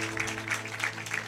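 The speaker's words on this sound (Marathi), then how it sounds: "एवढ्याच टाळ्या फक्त स्त्रियाच वाजवतील." Women in a church congregation clap together during a sermon, a brief burst of dense, steady applause with a slightly pulsing rhythm.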